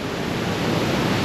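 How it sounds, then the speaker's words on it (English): Strong wind buffets the microphone outdoors on an off-grid property, a loud, steady roaring rush that fills the brief moment with no voices. "Very windy again."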